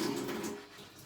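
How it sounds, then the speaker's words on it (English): Kitchen tap water runs steadily during washing up at home, a soft, even hiss close by that tapers slightly toward the end, with no voices. "I don't know if you can hear me because the water is running."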